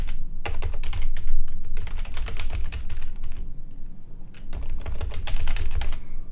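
Steady typing on a computer keyboard: continuous clattering keystrokes in quick bursts with brief pauses, close and clear, no voices.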